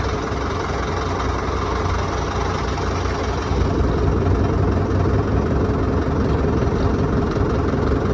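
A steady, loud engine idles at close range, a constant low rumble holding throughout without a break.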